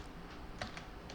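Keys clatter on a computer keyboard as a command is typed into a command prompt: a quiet, close run of soft, irregular taps with one sharper keystroke partway through.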